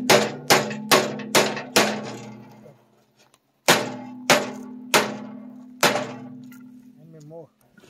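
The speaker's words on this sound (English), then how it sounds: "I have a hammer right here, Dan." A ball peen hammer strikes a metal tractor loader bucket in ringing blows, five in a quick series, a pause, then four more, each clang decaying slowly; a brief voice near the end.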